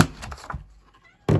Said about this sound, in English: You guys can hear my cat talking to me.